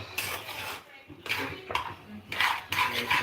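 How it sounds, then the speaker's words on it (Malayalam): A metal spoon stirs and scrapes an egg rice mixture in a pan, giving close clattering bursts of utensil against metal with short pauses between strokes. "ഇനി നമുക്ക് മിക്സിങ് തുടങ്ങാം കേട്ടോ"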